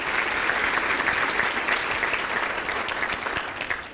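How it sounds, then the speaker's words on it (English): Sustained applause from a dinner audience at a teacher-of-the-year awards celebration, dense steady clapping that fades slightly toward the end. "Round of applause."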